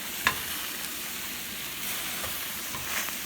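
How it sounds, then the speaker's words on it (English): Steady sizzling of Anaheim peppers roasting in a hot pan, a continuous crackling hiss with a brief clink near the start. "start flipping your Anaheim pepper so they start roasting"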